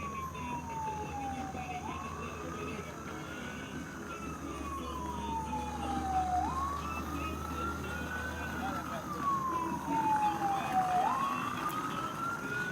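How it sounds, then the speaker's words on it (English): An ambulance siren travels with a migrant caravan outside Hermenegildo Galeana in Chiapas, Mexico, wailing up and down in long, steady sweeps for the whole stretch over rumbling traffic and outdoor noise, with voices in the background. "this ambulance has been with us for days"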